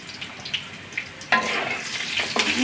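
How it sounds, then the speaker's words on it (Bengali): Potatoes frying in oil with salt and turmeric sizzle steadily up close, with light utensil taps early on and louder stirring scrapes later. "লাল লাল করে ভেজে নিয়েছি এখন তুলে নেবো"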